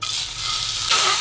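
Egg frying in a pan, a short bright steady sizzle that swells slightly louder partway through, close and alone with no talking.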